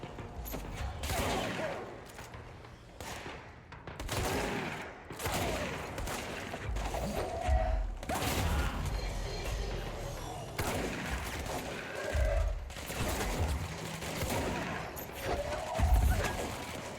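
Shotgun fire in the action video game Control, heavy booming blasts repeating through a long stretch amid dense game combat noise, crashes and clatter, loud and close throughout.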